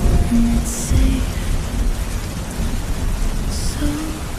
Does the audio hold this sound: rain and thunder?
yes